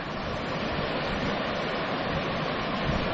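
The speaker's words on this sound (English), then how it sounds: "More rapids on the Tweed." Steady roar of fast rapids on the River Tweed rushing over rocks in winter, a dense, continuous wash of water noise with no voices.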